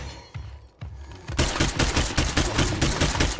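Gunfire in the video game Forsaken: a few scattered shots, then a dense, continuous burst of rapid automatic fire that stays loud and close to the end.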